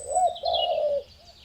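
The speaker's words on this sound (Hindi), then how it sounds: "उसमें कई कौवे, कबूतर और एक सारस फंसा हुआ" Cartoon birds call in a short burst, a bright chirping tweet layered over a lower cooing note, loud and close, then tapering off, with crows, pigeons and a crane caught together in a net.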